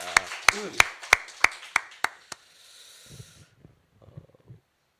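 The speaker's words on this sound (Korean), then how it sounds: "우리 다시 한번 하나님께 영광의 박수를 올려드리겠습니다." During a Sunday worship service, a church congregation gives about nine sharp, evenly spaced claps in quick rhythm, then falls quiet apart from low, muffled murmuring.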